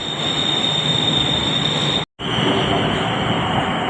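Train rolling along on the way to the Phra Samut Chedi fair in Thailand, a loud steady rumble with a high whine, cut by a brief dropout, then resuming just as loud, with no clear talk.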